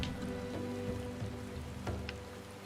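Rain falls in Final Fantasy XIV, a soft, steady patter laid under a faint drone of game music, with no voices.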